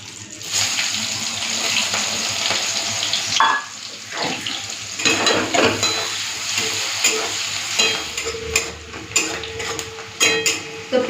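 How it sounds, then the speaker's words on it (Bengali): Chopped onions frying in oil after a panch phoron and dried chilli tempering, a loud continuous sizzle close by with scraping strokes of a spoon stirring through the pan. "দিয়ে দিচ্ছি পেঁয়াজ কুচি।"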